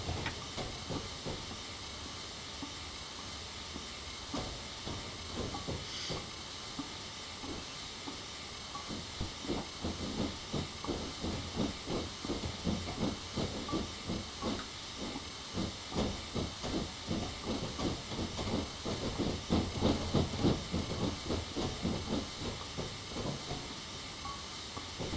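A BR Black 5 steam locomotive in Train Simulator hisses with a steady, broad wash of steam, joined by a fast rhythmic chuffing beat that grows stronger and more regular as the engine works along the line.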